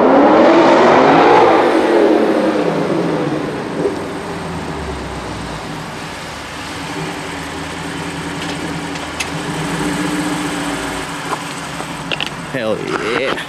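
A modified Aimgain-kitted Lexus GSF sports car roars loudly past as it accelerates, the engine note peaking early then fading into a steady distant drone, with people talking over it.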